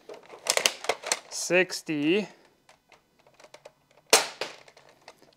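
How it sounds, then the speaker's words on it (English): Shots from a modified airsoft electric gun come as sharp clicking snaps, with a couple of short bursts mixed among close talk and a sharp crack near the end. "Let's see if I can get it to shoot right."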